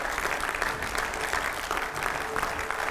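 Sustained, loud applause from a studio audience welcoming a guest, the former MP and Kerala governor, onto a televised Hindi editors' discussion show; dense steady clapping throughout with no pause.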